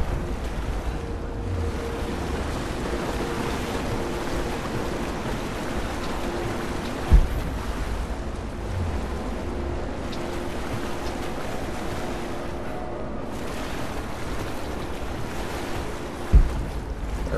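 Ocean surf in Rise of the Tomb Raider rushes and swells continuously along with wind, with a couple of brief dull thumps standing out against the steady wash.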